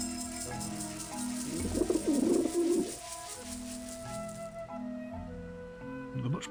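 Birds in Grim Fandango Remastered coo and warble in repeated soft phrases against a layered ambient music bed, with a louder fluttering burst partway through.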